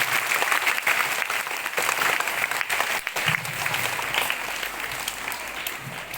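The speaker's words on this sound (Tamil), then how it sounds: "இப்போ கொஞ்சம் கைத்தட்டி ஸ்டார்ட் பண்ணுவோம்" A crowd claps steadily for about six seconds, a dense continuous patter of many hands at moderate loudness with a brief dip near the middle.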